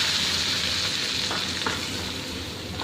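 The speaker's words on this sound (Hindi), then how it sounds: "इसको हल्की आंच पे भूनेंगे" Maida flour roasting in a pan over low heat gives a steady, close, even sizzle with soft scraping of stirring throughout.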